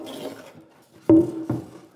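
A light chamfer being planed or filed along the edge of a wooden workbench top: two short, sharp rasping strokes, fairly close and loud, over a quieter scraping background, with no talk.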